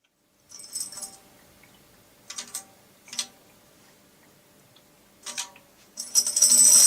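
Four separate bursts of bright metallic jingling, each a short shake of a tambourine's small metal jingles, with quiet gaps between and a louder, sustained rattle at the end.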